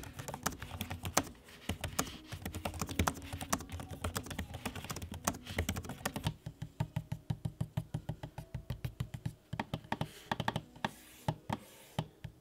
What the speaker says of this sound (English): here is an audio sample of both the trackpad and the keyboard so you can hear it for yourself